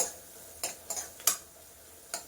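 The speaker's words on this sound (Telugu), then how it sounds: "ఆనియన్ బాగా ఫ్రై అవుతుంది చూడండి ఇలా బాగా మిక్స్ చేసుకోండి" Onions frying in a pan with a pinch of turmeric, being stirred: a low steady sizzle broken by several short scraping clinks of a spatula against the pan, close and fairly quiet.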